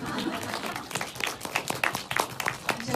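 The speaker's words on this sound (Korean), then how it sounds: "박수 한번 쳐드릴까요?" Audience clapping at a film screening Q&A for actress Park Ju-hee, a dense patter of hands through the whole stretch with voices murmuring underneath.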